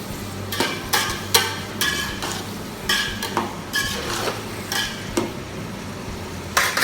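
Vegetable kurma stirred in a pot: a spoon scrapes and clinks against metal in irregular strokes over a soft, steady simmering hiss, with no voices.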